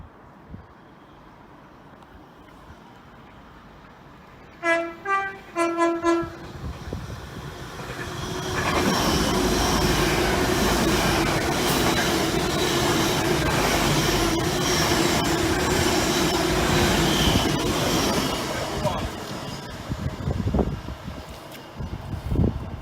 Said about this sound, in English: We've got a fast train coming through from Leeds to London